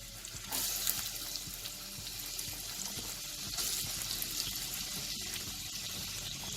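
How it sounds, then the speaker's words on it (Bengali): Two medium chopped onions go into a spoonful of hot white oil and fry with a loud, continuous hiss. The sizzle flares in bursts as the onions land and are moved around the pan. "এবার আমি এতে 2টো মিডিয়াম সাইজের পেঁয়াজ কুচি দিয়ে দেবো।"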